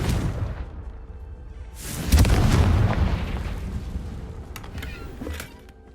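The Confringo blasting curse from Hogwarts Legacy goes off with a deep, loud boom that swells into a rumbling burst and fades slowly, with a faint ambient bed before and after.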